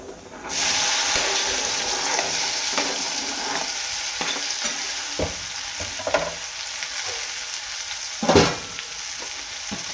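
Sliced okra hits hot oil with turmeric in a pan, bursting into a loud, close sizzle that keeps crackling steadily under occasional stirring scrapes and clicks, with one louder stir near the end and no talking.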